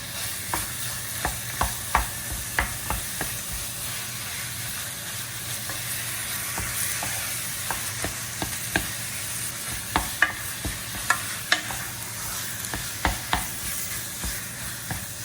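Ground pork stir-fried with garlic and shallots for Thai pad kra pao, with a continuous sizzle under regular spatula scrapes and taps as the meat is pressed and broken apart, near and steady.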